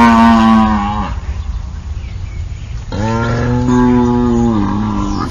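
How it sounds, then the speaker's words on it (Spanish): A cow on a farm moos twice, loud and near: a long low drawn-out call, a short pause filled with breathy rumble, then a second sustained moo that tapers off at the end. "Vaca."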